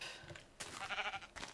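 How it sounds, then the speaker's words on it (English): Minecraft sheep bleating, a few short nasal bleats in quick succession, faint and close with brief gaps between calls. "Sheep!"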